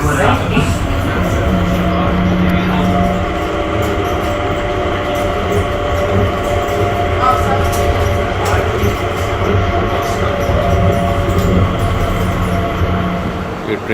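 A train sits at a station platform after passengers get off, a loud continuous rumble and hum of the carriages with brief squeals, while people talk nearby.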